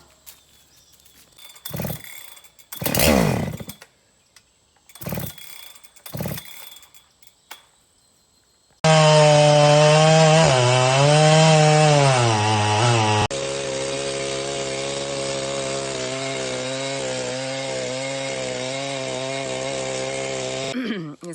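Chainsaw cutting wood on a farm in Costa Rica, first a few pulls and sputters while it struggles to start, then a loud sustained buzzing whine with revving changes in pitch.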